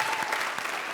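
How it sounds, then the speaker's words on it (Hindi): Studio audience applause on a Hindi comedy show, a dense, steady burst of clapping filling the whole short moment without talk. "तालियां।"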